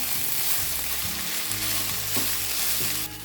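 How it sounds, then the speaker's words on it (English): Rinsed canned black beans are stirred into a hot skillet dinner, producing a continuous close sizzle with soft scraping and stirring movements throughout and no voices. "For a little extra fiber, I took 1 can of black beans rinsed and drained them, and we're going to stir them in."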